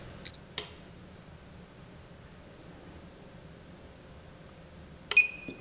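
A faint electronic beep from a Livolo VL-C701R touch light switch sounds near the end, preceded by a soft click, against a quiet background hum.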